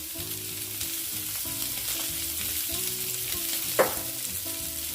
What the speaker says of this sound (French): allons faire revenir les gambas ici